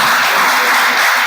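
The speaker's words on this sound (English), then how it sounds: "Please a round of applause for him" Applause from an audience at a Nigerian legislative-stakeholders event on the digital theatre, greeting an honourable guest board member: a dense, steady wash of many clapping hands, loud and continuous for the whole moment.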